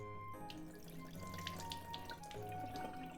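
Rinsed rice drained in a kitchen, with water trickling and splashing steadily out of the pot at close range, a soft continuous pour with small gurgles and no talking.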